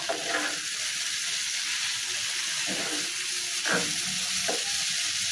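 Beef curry fries in mustard oil in a pan, a steady, close sizzle with faint scraping strokes from a utensil stirring the ingredients together.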